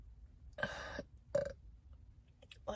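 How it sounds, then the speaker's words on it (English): A deep, throaty burp from a woman, then a second shorter one about a second later, both close and fairly loud in a quiet room, with a faint vocal sound at the very end. "Sometimes you just gotta let those burps out."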